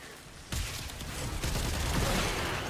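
Continuous gunfire from Warframe starts abruptly and holds as a loud, steady rattling burst, with no voices over it.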